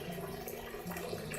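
Water rushes steadily through a hose as it is siphoned out of a betta fish tank, a continuous close gurgling wash with no pauses.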